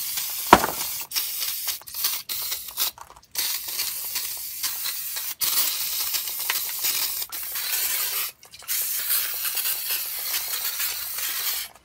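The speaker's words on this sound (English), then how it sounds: "I'm going to go ahead and spray everything down and brake clean" Repeated hissing blasts of an aerosol brake cleaner can sprayed on drum brake parts of a 2007 GMC Sierra, some long and some short, separated by brief pauses, loud and close.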